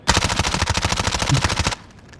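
Rapid automatic gunfire in a video game, a dense continuous burst of evenly spaced shots lasting well over a second, loud and close, then cutting off abruptly.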